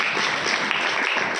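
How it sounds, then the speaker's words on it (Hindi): A short burst of applause, a room of people clapping steadily for a moment. "ताली बजा दो मेरे लिए"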